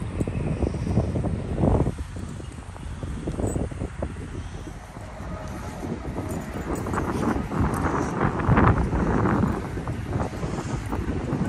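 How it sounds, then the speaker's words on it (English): Cold wind gusting at an outdoor Minnesota highway rest area, buffeting the microphone in loud, uneven rumbling bursts that swell and ease throughout, with no voices. "it is cold and windy out there"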